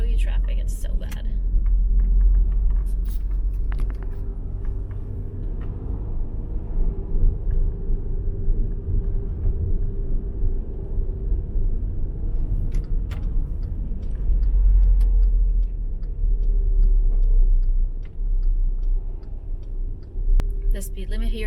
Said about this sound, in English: I'll show you traffic, it's so bad.